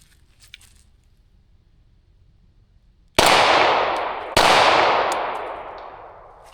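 A Prodigy handgun with a fresh PVD coating fires two sharp, loud pistol shots about a second apart, each trailing off in a long echoing decay after a quiet lead-in.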